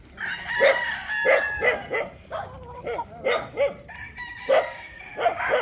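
Roosters crow and chickens call repeatedly on a gamecock farm of Boston Round Head fighting cocks in Tanauan, Batangas, with a dog barking among them and someone speaking over the birds.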